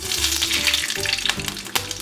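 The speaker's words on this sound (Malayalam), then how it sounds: "ചട്ടി ഏകദേശം ചൂടായിട്ടുണ്ട്, ഓയിൽ ചൂടായിട്ടുണ്ട്. അപ്പോൾ നമുക്ക് ഇതിലേക്ക് കടുക് ചേർത്ത് കൊടുക്കാം." Mustard seeds crackle and sizzle in hot oil in a pan while a Kerala-style pomfret fish curry is being started, a steady close frying hiss broken by sharp pops.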